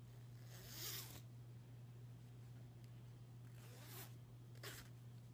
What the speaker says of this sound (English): Pretty smooth zipper.